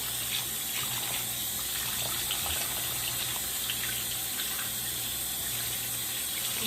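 Salted Ghanaian tolobeef rinsed under a running kitchen tap, a steady, fairly quiet hiss of flowing water splashing over the meat in a sink, continuous throughout with no talking.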